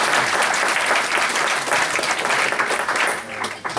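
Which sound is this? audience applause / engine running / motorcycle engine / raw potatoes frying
audience applause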